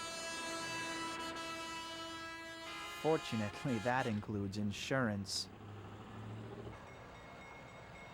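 A dilapidated train in Guatemala sounds a long, sustained horn blast, then a stretch of rumbling movement, with a voice speaking over the middle of it.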